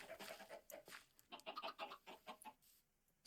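Chickens clucking in the block-building game Minecraft, a quick run of soft, repeated clucks in short bursts, fairly faint and with no talking.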